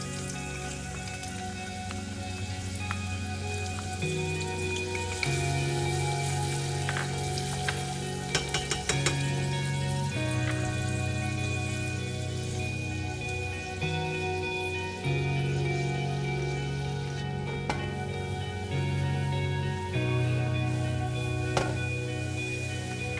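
Chopped garlic and onion sizzling steadily in a hot pan for a side of silken tofu, a dense, even crackle and hiss that holds without pause, with no one speaking.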